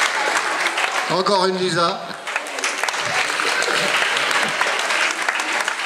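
An audience applauds the coaches at a gathering, sustained clapping throughout while a voice speaks briefly over it near the start.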